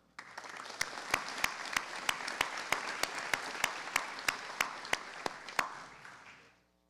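An audience at a community foundation scholarship night gives a steady round of applause, with a few sharp, evenly spaced louder claps standing out before the clapping fades away.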